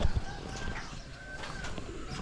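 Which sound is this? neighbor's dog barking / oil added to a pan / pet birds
pet birds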